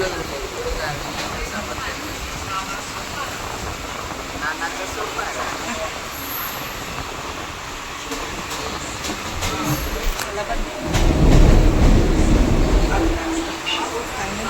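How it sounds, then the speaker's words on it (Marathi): A local train rumbles through Vasai station on the Mumbai line, a loud continuous rolling clatter and hiss that swells heavier toward the end, with station bustle around it. "पोचलं वसईला आता ट्रेनची वाट बघतोय"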